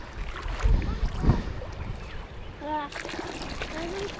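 Water splashing and sloshing in a bucket as it is changed to keep saltwater yabbies alive outdoors, with a few irregular splashes early on, faint bird calls later, and people speaking nearby.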